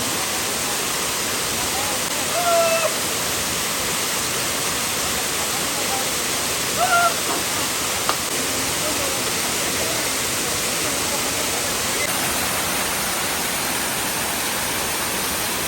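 A waterfall on the Jatashankar river near Girnar pours as a dense, steady broadband roar close by. It stays constant for the whole stretch, with a few faint voices and brief sounds barely poking through.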